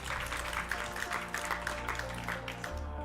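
Audience applause at a French business panel event in Paris La Défense, steady clapping over a low hum of room sound, moderately quiet.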